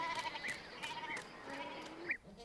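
Goats bleat in a mountain pasture setting, several wavering calls from a few animals spread through the moment, fairly faint and without talk.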